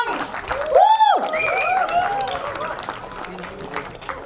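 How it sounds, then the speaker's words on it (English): Audience at the 99 Songs music launch clapping and cheering, with loud whoops and shouts near the start over a steady bed of crowd applause that gradually eases. "Can we give a huge round of applause to 99 songs?"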